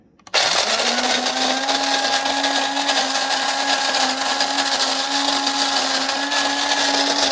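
An electric grinder grinding Aldi whole bean coffee starts abruptly and then whirs loud and steady with a constant high motor whine, close up and with no talk over it.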